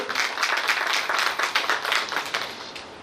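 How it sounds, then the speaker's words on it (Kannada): Audience applause welcoming the teachers at a school alumni reunion and teacher-honouring event, a dense, steady burst of many hands clapping close by for about three seconds, tapering slightly at the end. "ಅವರೆಲ್ಲ ಮತ್ತೊಮ್ಮೆ ಹೃತ್ಪೂರ್ವಕವಾಗಿ ಸ್ವಾಗತ ಮಾಡೋಣ ಜೋರಾದ ಚಪ್ಪಾಳೆಯೊಂದಿಗೆ"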